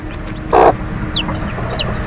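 A hen on a poultry farm gives one short, loud cluck, followed by a few faint, high peeps from chicks nearby.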